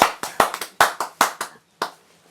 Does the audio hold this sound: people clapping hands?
yes